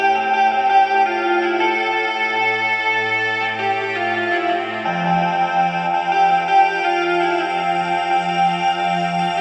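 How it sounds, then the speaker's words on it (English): A mixed choir pad in a beat called moonlight beat, sustaining smooth harmonized chords that shift midway, loud and continuous with no percussion standing out, heard alone. "I added a mixed choir just to sound a little bit more orchestrated."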